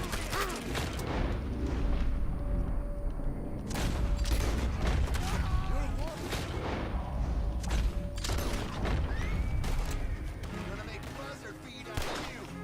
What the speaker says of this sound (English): You see how fast he's shooting those animals?